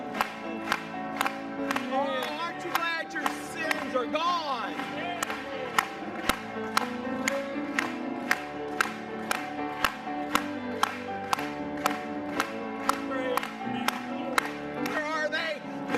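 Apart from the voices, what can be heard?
congregation clapping along during a church song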